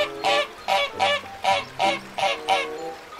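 A toy duck gives seven quick, evenly spaced honking quacks in a steady rhythm, loud and close, with no talking.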